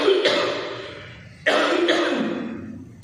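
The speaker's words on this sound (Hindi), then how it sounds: "खांसी हो गई है थोड़ा" A man coughs twice, loud and close: a harsh burst that trails off, then a second sharper one after a short gap.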